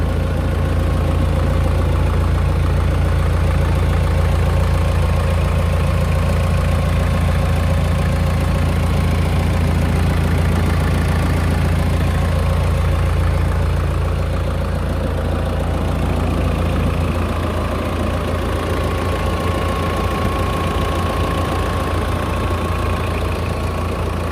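A Mahindra Thar diesel engine idles steadily, a low rumbling drone with a faint rhythmic knock, unchanging and close, with no voices.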